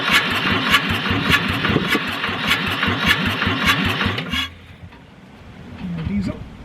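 An old fire-damaged Ford 4000 tractor diesel engine cranks and chugs with rapid rhythmic knocking, loud and close, then cuts out abruptly into quiet, with a voice briefly heard afterward.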